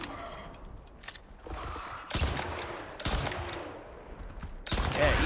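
Gunfire rings out in the survival game Icarus, starting with faint distant pops and building into several loud, sharp bursts of shots spaced about a second apart.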